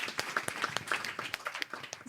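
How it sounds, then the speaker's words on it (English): A small audience claps for Maddie, a child taking part in a brainwave demonstration, with distinct, fairly close individual hand claps in a loose, uneven rhythm rather than a dense roar. "Can we have a big round of applause for Maddie and her beautiful brainwaves?"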